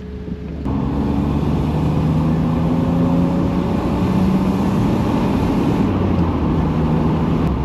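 A BMW Z3 roadster with a 193-horsepower engine drives steadily, a loud continuous engine drone and road roar that holds throughout with no talking.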